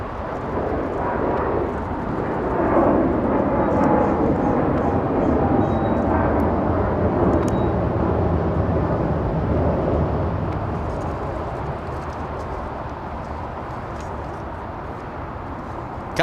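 Philippine Airlines Boeing 777 climbing out of Los Angeles International Airport, a broad jet roar swelling to a peak then slowly fading into the distance, heard from the ground with no clear talk.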